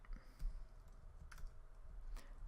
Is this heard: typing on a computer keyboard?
yes